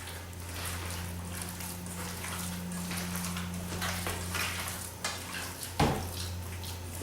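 Hands work venison meatloaf ingredients together in a bowl, making soft, wet squelching and mashing sounds up close over a low steady hum, with a few knocks against the bowl near the end.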